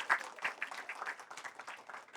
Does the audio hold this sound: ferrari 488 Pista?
no